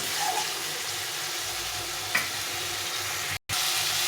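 Potatoes and pointed gourd sautéing with spices in a pan give a steady, close frying sizzle that runs the whole time, with a soft stir or two and a brief dropout near the end.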